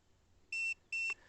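Two short electronic beeps in quick succession from an Actor bait boat remote, shrill and clear, close by against a quiet background.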